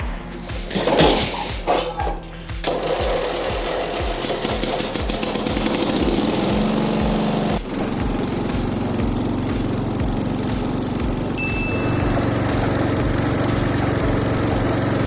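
An engine is cranked and started for a test drive, likely on a lawn mower given the mention of cutting the lawn, settling into a loud, steady, close rumble that runs throughout.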